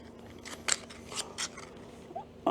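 The aluminium frame poles of an ultralight camping chair click into place, making a few small, sharp, close clicks and light taps spread unevenly over a quiet background.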